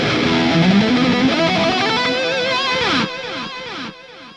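A distorted electric guitar lead with a swirling, sweeping phaser tone from a Helix Stadium XL, notes bending and sliding, loud and upfront with no talking.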